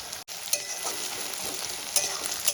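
Onions fry for Kashmiri chicken in a steady, bright sizzle with faint scraping and a few light clicks, close and continuous, with no voices.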